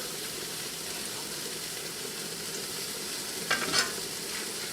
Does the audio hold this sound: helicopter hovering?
no